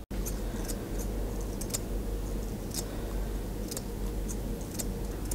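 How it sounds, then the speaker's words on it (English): Thinning scissors trimming a cavoodle's hair in front of its eye, a series of small, crisp snips at an uneven pace over a steady hum, close up with no talking. "just gently use our thinners and cut the hair in front"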